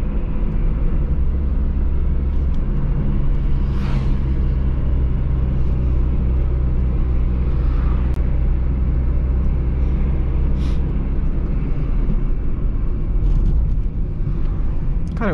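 A 1997 Fiat Palio ED 1.0 drives on a morning ride, with a loud, continuous engine and road rumble throughout and no talking.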